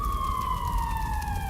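A siren sound effect wails in a steady, slowly falling tone during a Hindi news broadcast about the Ukraine war, loud and continuous over a low rumble.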